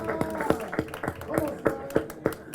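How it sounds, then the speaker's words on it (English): Sparse, evenly spaced hand claps from an audience at a university graduation ceremony in Dubai, about ten distinct claps ringing out in a steady rhythm in a reverberant hall. "Let's clap for him."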